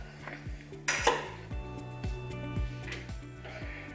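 Cooked beef is lifted out of a Tefal Actifry fryer with metal utensils. Close, repeated clinks and scrapes of metal against the pan ring out in an irregular rhythm, with one louder clatter near the start.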